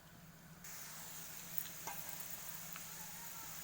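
Pieces of raw banana sizzle steadily in hot oil as they are added to the pan, a continuous fine hiss with a few faint clinks, close and fairly quiet.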